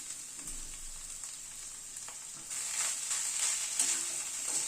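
Potatoes being stirred into banana flower curry in a pan, a steady broadband sizzle that swells louder halfway through with scraping stir strokes, close and alone without any voice.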